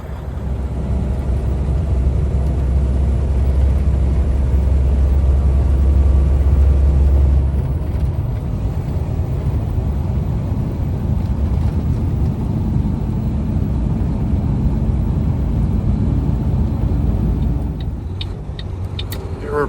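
A loaded grain truck rolls down a gravel road toward the grain bins, its engine and tire rumble holding steady and loud for the full stretch, with a slight easing near the end.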